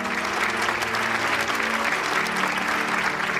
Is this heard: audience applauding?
yes